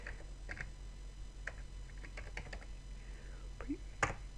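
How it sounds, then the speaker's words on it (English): Close, faint typing on a computer keyboard, a scattered run of light key clicks with short gaps and one sharper tap near the end, over a quiet hum. "this time we're going to type in prefetch"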